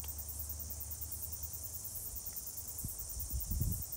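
Thousands of cicadas drone in a dense, high, pulsing buzz that fills the whole span at a steady level, with faint low rustling near the end.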